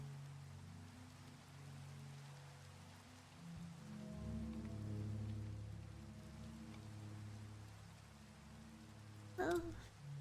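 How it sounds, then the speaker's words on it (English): Rain falls steadily outside in a soft, continuous patter that is faint and distant, under a low indoor hum, with a short rustle near the end. "Rain is a bit loud."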